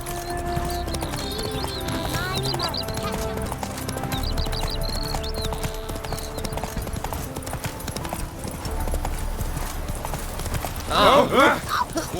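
Horse hooves clip-clop steadily on a street in The Witcher 3's city of Novigrad, a close, rhythmic trot under game music and ambient noise, with a brief whinny-like burst near the end.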